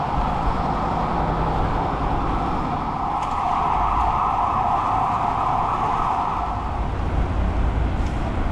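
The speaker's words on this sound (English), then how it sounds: "Fire engine going there." A fire engine siren wails steadily on a street in Porto, Portugal, loud and continuous throughout, its tone swelling as it nears amid dense traffic rumble.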